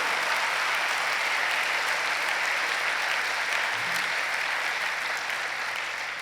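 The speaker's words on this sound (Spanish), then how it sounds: "Denle un aplauso al Señor por eso." A congregation applauds during a sermon by Pastor Alejandro Castro. The clapping is dense and sustained at a steady level, tapering slightly at the very end, with no speech over it.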